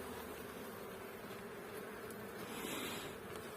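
Honeybees buzzing in an open hive during a spring colony inspection at an apiary, a steady, dense hum that holds close and even throughout.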